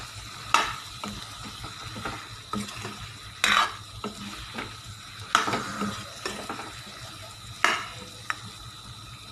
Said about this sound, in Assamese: আলু দিয়াৰ পাছত মই 4 মিনিটমান এনেদৰে লৰাই ভাজি থাকিলোঁ